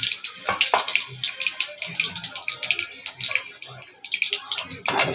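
Dried turkey berries dropped into hot oil already popping with mustard seeds, giving a steady crackling, sizzling fry with sharp spitting pops throughout, close and fairly loud.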